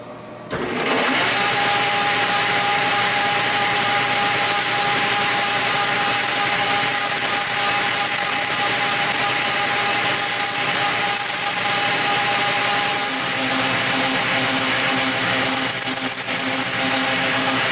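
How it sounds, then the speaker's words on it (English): Steady, loud mechanical whine of a milling machine drilling metal washers, running continuously with a high tonal hum and little change throughout. "Done with drilling."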